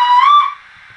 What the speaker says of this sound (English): another whistle